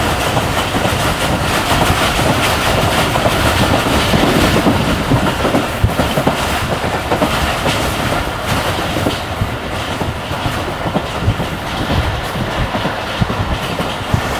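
The Karachi Express runs along a smooth railway track in the Multan division, a loud steady roar of wheels and carriages with faint rhythmic clatter throughout, heard from on board with no voices.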